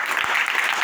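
Children clap as a group, a short, loud, continuous patter of many small hands, close by and steady throughout with no voices on top.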